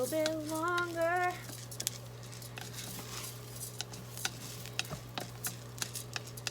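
Rice toasting in a pan for risotto gives a soft, steady patter and faint sizzle, broken by occasional spoon stirs and scrapes, close and fairly quiet after a brief whistling tone at the start.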